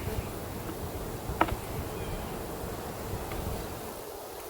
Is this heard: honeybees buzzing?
yes